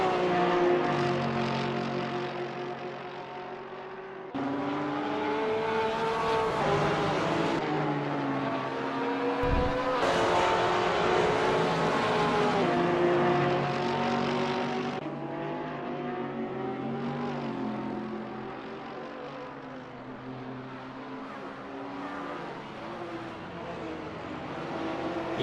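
Race cars in a sim racing game circle the Vallelunga track, engines droning steadily with shifting pitch as they accelerate and change gear, a continuous close motor whine without talk.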